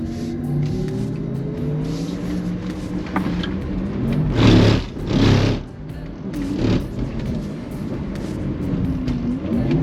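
An electric Porsche drifting on a track, a continuous whining drone that rises and swells twice in the middle, then settles back into a steady hum, fairly loud and close, with no engine note.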